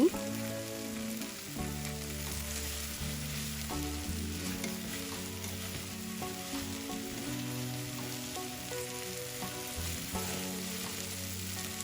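Vegetables and egg stir-fried with seasoning such as oyster sauce and sugar, a continuous sizzle with stirring underneath steady background music.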